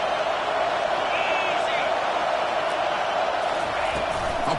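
Crowd noise fills a college football stadium as the home fans roar to rally their defense for a red zone stop, a steady dense wall of sound throughout with commentary voices riding over it.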